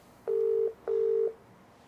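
A phone call rings out as two identical steady electronic tones, each about half a second long, separated by a short gap, clear and close over a faint background hum.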